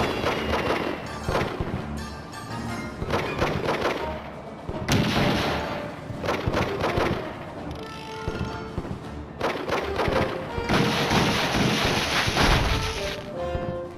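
Gunfire and explosive blasts in the Indiana Jones and the Staff of Kings video game, irregular heavy thumps and shots mixed with game effects, loud throughout.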